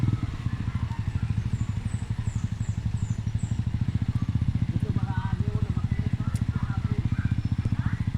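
A motorcycle engine chugs with a steady rapid pulse on a slippery dirt road to a rural barangay, loud and close throughout, with voices talking over it.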